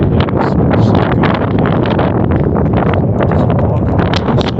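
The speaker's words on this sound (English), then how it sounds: "this wind is so powerful today" Strong wind on a very windy day in Calgary buffets the microphone with a loud, continuous roar and gusty rumble throughout, with no speech.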